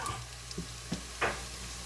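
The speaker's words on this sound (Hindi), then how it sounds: "प्याज हमारे फ्राई हो गए।" Onions fry in a pan for Sindhi biryani with a faint, steady sizzling hiss and a few soft ticks and pops, heard alone.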